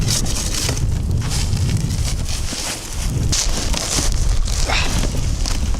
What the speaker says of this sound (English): That is quite the wind.